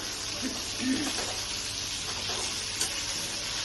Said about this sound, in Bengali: মাছগুলোকে ফ্রাই করে নেব